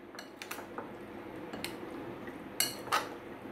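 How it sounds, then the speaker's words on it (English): Prawns being mixed into a fry masala marinade for a South Indian crispy prawn fry, with soft clinks and scrapes of a utensil against a bowl and two sharper knocks near the end, close and fairly quiet. "Marinate the prawns in fry masala."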